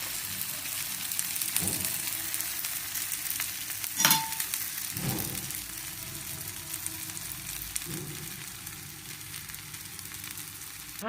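Drumstick leaf thalipeeth frying in ghee on a hot griddle gives a steady, close sizzle throughout, with a few soft scraping or tapping touches and one brighter clink near the middle.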